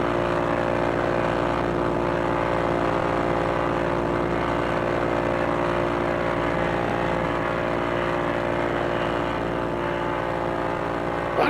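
Steady, droning propeller engine of a P-40E Warhawk WWII fighter in flight over a bay in a VR flight game, a continuous loud hum with strong low harmonics holding unchanged throughout.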